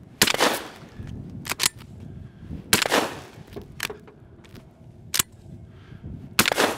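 A handgun fired upside down over the head in freezing cold, failing to cycle, gives several sharp loud shots spaced irregularly, each a sudden close crack with a short decay, no voices.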